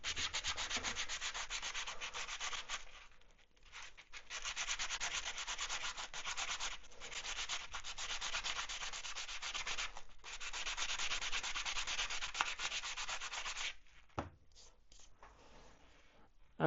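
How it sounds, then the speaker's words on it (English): Rough sandpaper rubs a 3D printed swimbait fishing lure in steady, close back-and-forth strokes, with a few brief pauses between bursts and no talking. "rough sandpaper"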